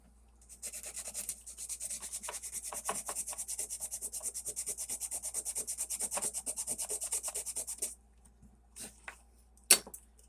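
Light hand sanding with 2000-grit sandpaper on an old knife blade, a steady run of quick close rubbing strokes lasting about seven seconds, then a few scattered faint scrapes and one sharp tap.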